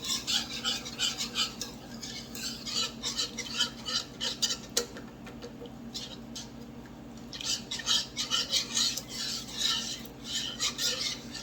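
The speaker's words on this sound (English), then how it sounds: "Get that stirred in." A spoon stirs smoked paprika into a burger sauce mixture for a copycat Wendy's pretzel bacon pub burger, making a steady run of close, rhythmic scraping and clinking strokes against the bowl.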